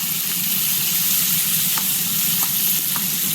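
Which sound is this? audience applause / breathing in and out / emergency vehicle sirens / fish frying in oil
fish frying in oil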